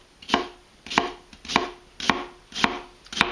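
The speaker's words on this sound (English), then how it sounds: "I'm not slicing all the way through to the other side of the onion" A knife slices through an onion on a cutting board in six even, crisp strokes, each a close, sharp chop about half a second apart, with no talk.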